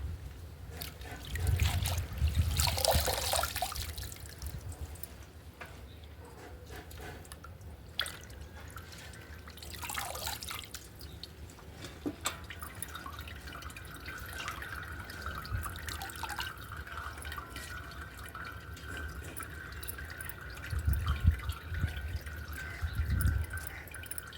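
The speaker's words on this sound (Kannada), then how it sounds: "ಇವಾಗ ಇದರಲ್ಲಿ ನೀರೆಲ್ಲ ಸೋರು ಹೋಗುತ್ತೆ." Water drips and trickles steadily from freshly washed leafy greens set on a plate in a home kitchen, a soft continuous patter with a few louder splashes, no talking.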